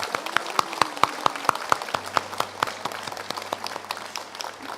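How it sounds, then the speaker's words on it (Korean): A church congregation applauds during a Sunday service, honoring members with perfect attendance: a steady stream of sharp, rhythmic claps at moderate distance, fairly quiet overall, with no speech. "다 함께 힘찬 박수로 격려하도록 하겠습니다"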